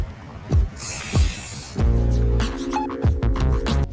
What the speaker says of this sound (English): I've only sprayed it white, but it looks so clean already.